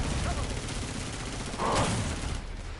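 Gunfire from a PS5 zombie shooter game crackles in a dense continuous burst, steady and moderately loud over a noisy backdrop, with no clear speech.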